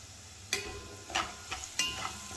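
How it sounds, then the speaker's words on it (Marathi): Red chili, garlic and cumin masala stirred in a pan, with soft background sizzle broken by four sharp scraping stir strokes spaced about every half second, close and fairly quiet. "छान परतून झालेला आपला मसाला."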